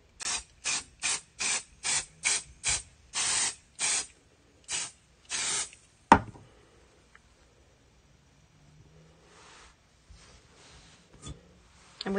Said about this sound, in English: we're going to baste it with the spray again